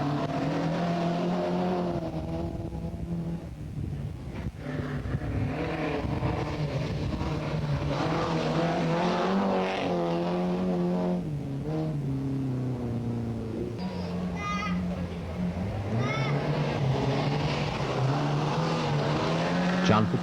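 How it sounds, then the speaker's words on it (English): Ford Escort rally car pulling away at a 1982 Kerry single-stage rally, its engine droning and revving with shifting pitch over steady crowd and commentary noise, while people talk throughout. "he's underway and there doesn't seem to be any damage to his Escort"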